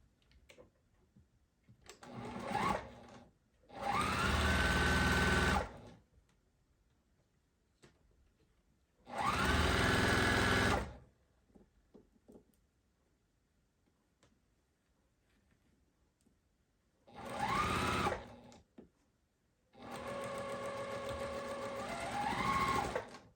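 A domestic sewing machine stitches a quilt block seam in four separate bursts, each a steady mechanical whirr lasting one to three seconds, with quiet pauses between them and no talking.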